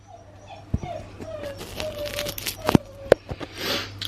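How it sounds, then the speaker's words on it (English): A dog named Beth whines in thin, high rising whimpers across a few seconds, faint and intermittent, mixed with scattered clicks and rustling handling noises nearby. "Oh, you know, dog's whining away."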